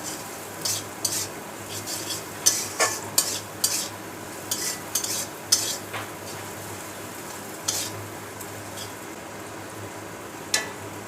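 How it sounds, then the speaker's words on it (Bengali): Ingredients for chicken kala bhuna fry with a soft steady sizzle in a pan. A spatula scrapes and taps against the pan at irregular intervals, close and moderately quiet. "এবার এই উপকরণগুলো সব ভালোভাবে ভেজে নিই।"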